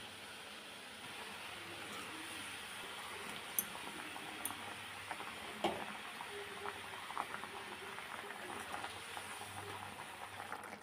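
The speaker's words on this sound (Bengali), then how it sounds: "ঝোলটা ফুটে গেছে।" Fish curry gravy for a chital kalia bubbling in a pan, a soft continuous simmer with faint pops and occasional small clicks, steady and low in level.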